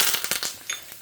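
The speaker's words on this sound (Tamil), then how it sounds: "ஸோ கடுகு பொரிய ஆரம்பிச்சிடுத்து" Mustard seeds spluttering and popping in hot oil, alongside ajwain and urad dal frying, while a Mysore rasam tempering cooks: a quick, close burst of sharp crackles that thins out toward the end, with no talk.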